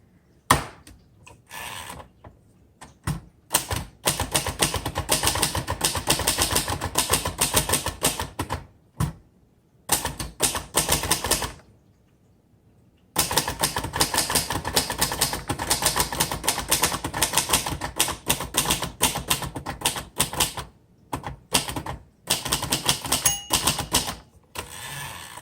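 Rapid bursts of typing on a 1960 Royal Heritage vintage manual typewriter, crisp mechanical key strikes clattering in fast runs broken by brief pauses and a longer gap, loud and close with no voices.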